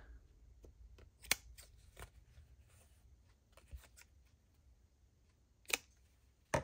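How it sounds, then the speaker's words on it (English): Scissors snip open small ribbon loops, with a few sharp, isolated cuts, one early and two near the end, over quiet handling rustle. "And pulling that through, cutting the loops open"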